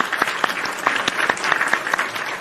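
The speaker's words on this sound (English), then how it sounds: "So round of applause for TNA and a great pay-per-view." A round of applause plays as a short sound effect, a dense patter of clapping from a small crowd with distinct sharp claps standing out, moderately loud and alone.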